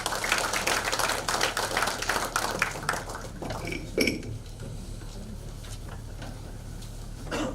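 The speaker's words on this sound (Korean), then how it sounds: "큰 박수 부탁드리겠습니다" Applause from the audience at a Liberty Korea Party lawmakers' workshop, a dense crowd clapping that is loud at first and thins out toward the end, with clinking and scattered noise in the hall.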